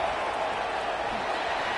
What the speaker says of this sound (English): And this place is rocking. Night games are always so loud, so obnoxious